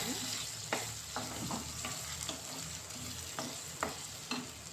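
Ginger paste fries in a hot pan for a cucumber-tomato curry, giving a steady sizzle broken by sharp scraping strokes of a spoon stirring it, several in uneven rhythm, close and clear with no talking.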